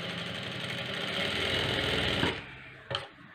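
A sewing machine topstitching along a blouse sleeve runs in a loud, steady close whir that builds slightly, then stops, followed by a brief sharp click.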